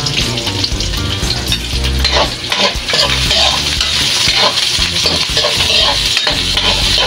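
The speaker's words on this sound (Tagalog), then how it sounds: "Lagyan natin itong tangkay ng celery." Celery stalk dropped into a loud sizzling pan of garlic oil for squid adobo, with steady frying hiss and repeated utensil stirring and scraping close up, no talking.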